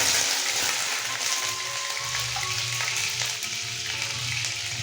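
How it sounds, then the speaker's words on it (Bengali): Slit green chillies dropped into hot oil left from frying cauliflower pakoras give a loud, continuous, hissing sizzle that holds steady throughout, with a low hum beneath. "এবার এই পকোড়া ভাজা তেলের মধ্যে দিয়ে দেব কয়েকটা চেরা কাঁচা লঙ্কা"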